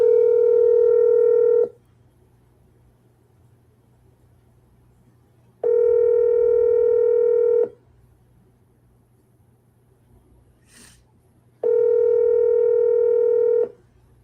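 Phone call ringing out on the line before anyone picks up: three long, steady ring tones, each about two seconds, separated by roughly four-second gaps of quiet line hiss, with a faint click in one gap.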